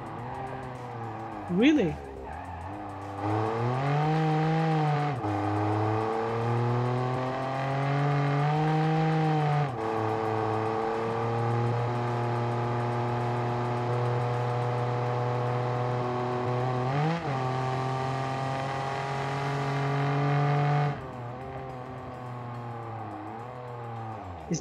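A rear-wheel-drive viewer's car with a sequential gearbox drones along at close range, its engine note climbing and dropping through gear changes, with someone talking over it.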